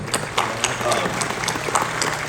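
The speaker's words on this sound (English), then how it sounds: "So round of applause to her, obviously." Audience members at a Dragon Ball panel at Rose City Comic Con clap for a voice actress, a short burst of scattered applause with a voice talking over it.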